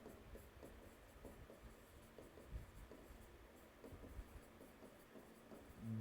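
A teacher writes on a classroom board in faint, intermittent scratchy strokes, heard alone at low level with no talk.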